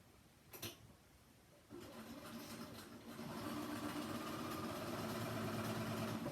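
Sewing machine stitching a chair cushion cover: a brief click, then the motor starts and runs in a steady close whir that picks up speed, no talking.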